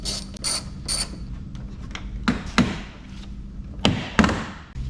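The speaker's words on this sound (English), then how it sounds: "We're going to take off the fender flare and unclip the edge." Plastic clips snap and click as a fender flare is unclipped on a 2024 Ford F-150 Raptor, a handful of sharp close pops and rattles spread over a few seconds with no speech.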